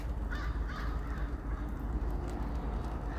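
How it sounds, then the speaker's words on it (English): Crows caw repeatedly in the distance on a morning in Terrace, BC, over a low, rumbling outdoor background, the calls scattered and irregular. "You can hear a bunch of those crows and stuff"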